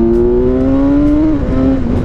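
A 2017 BMW S1000XR motorcycle engine revs hard and steadily in first gear, its high whine holding close and loud before dipping briefly and climbing again.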